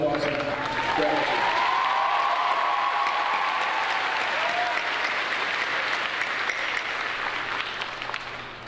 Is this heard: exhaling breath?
no